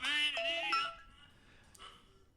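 Mobile phone ringtone playing a short bright electronic melody of a few quick tones heard up close, cutting off after about a second and leaving faint room noise.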